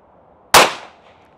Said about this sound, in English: So go ahead and do three more shots there.